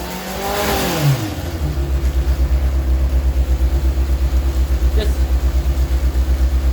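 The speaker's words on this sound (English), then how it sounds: "Play with the throttle a little bit." A 2024 Honda CBR 600RR sport bike in first gear has its throttle blipped, then settles into a loud, steady, throbbing engine rumble that continues to the end. The rear wheel spins freely on a stand in a workshop setting.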